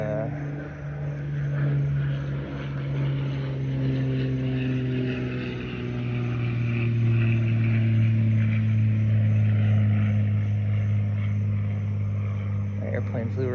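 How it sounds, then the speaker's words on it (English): Propeller airplane passing low overhead, a steady droning engine hum with slowly gliding tones that swells and holds loud for over thirteen seconds, with no other sounds on top. "the airplane flew right over me."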